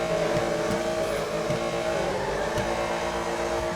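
A car engine revving inside a tunnel in the GTA Online video game, a steady loud droning roar with a slight rise and fall in pitch, reverberant and continuous, with no talking.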